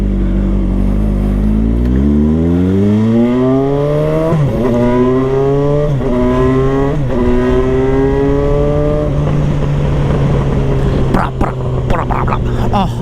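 A motorcycle revs hard to around 4,000 RPM, the engine pitch climbing steadily before settling into a sustained drone with popping exhaust bursts, loud and close throughout.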